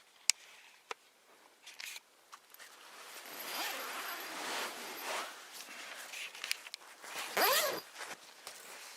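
A zipper being slowly opened on a Grand Trunk Skeeter Beater Pro hammock, the long rasping pull rising and falling in bursts over several seconds, close by, with small rustles and clicks before it.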